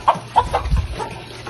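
Chickens clucking in a short run of four or five quick, close clucks with a low thump underneath, fairly loud and without talk.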